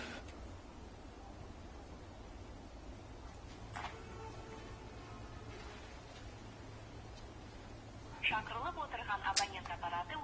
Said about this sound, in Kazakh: Телефон көтермейді.